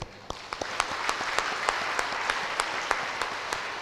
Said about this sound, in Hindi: ये शरीर को एक बार हमें जोरदार तालियां मारें।